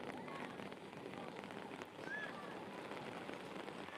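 Steady rain falls during an outdoor youth soccer match, a soft, constant hiss that runs through the whole stretch, with a faint distant voice now and then.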